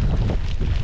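Wind buffets an outdoor microphone near the shore of Lake Constance, a brief, loud, low rumble filling the whole moment.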